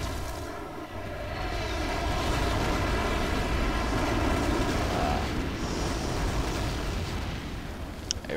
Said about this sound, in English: Airstrike killed me there.